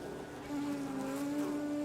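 A steady bee buzz drones on with a sustained tonal hum, close and continuous, no voices, on Thesen Island, Knysna, South Africa.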